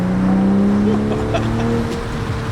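A Toyota GR Supra with an aftermarket exhaust and downpipe rumbles and revs loudly nearby, its deep exhaust note rising and falling with a few sharp backfire pops.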